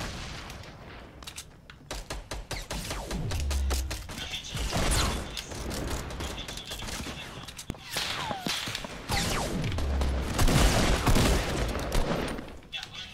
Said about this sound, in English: I'm gonna start grenade launching it